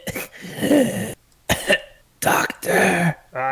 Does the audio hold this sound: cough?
yes